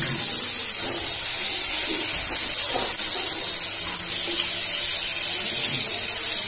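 Dried anchovies crackle and sizzle in hot oil over a medium flame, a dense, steady hiss close by that runs unbroken with no speech over it.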